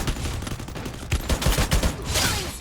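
Rapid bursts of gunfire from a fully modded gun in the mobile battle-royale game Free Fire, loud and close, firing in quick repeated volleys across the moment.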